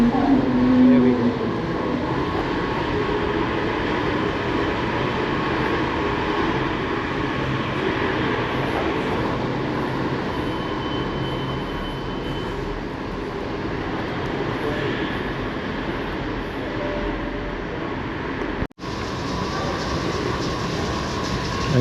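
Washington DC metro train running, a loud steady rumble and rail roar filling the whole stretch with faint clatter, heard close from aboard or beside the track.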